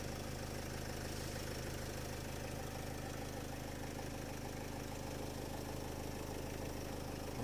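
A 2010 Opel Vivaro long-wheelbase van with a 2.0-litre, 115 hp engine idles steadily, giving a constant, even mechanical hum and rattle with no break or change in level and no voices.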